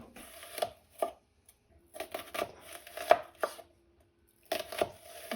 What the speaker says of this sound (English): I'm going to just chop this up.